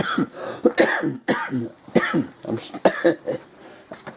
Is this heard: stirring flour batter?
no